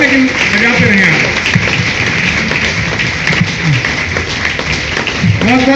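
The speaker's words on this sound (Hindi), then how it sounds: "आप लोग तालियों से उनका हौसला अफजाई कर सकते हैं" An audience at a network marketing event applauds, a dense continuous clatter of clapping beneath an amplified voice speaking over it throughout.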